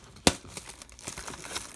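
A foil pack of 2020 Topps Allen & Ginter baseball cards ripped open close up, a sharp tear followed by soft crinkling and rustling of the wrapper.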